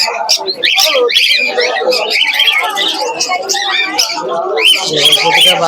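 Pigeons coo and call at a busy pigeon market in Krishnanagar, their steady warbling mixed with chirps and overlapping voices of people talking nearby throughout.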